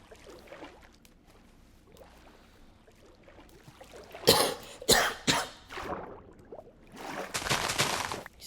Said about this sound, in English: It's literally only this dry cough.